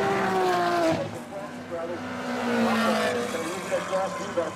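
Race cars sweep past on a circuit during a championship race, engines rising and falling in pitch as they go by close and loud, with a commentator talking over them throughout.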